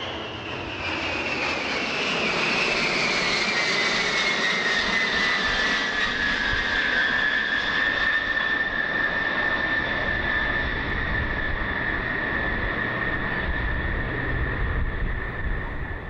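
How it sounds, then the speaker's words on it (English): A US Air Force B-52 bomber flies across St. Aubyn's Bay at the Jersey airshow. Its loud, continuous jet roar holds steady with a slowly falling whine and no talk. "A United States Air Force B-52 heading straight across St. Aubyn's Bay."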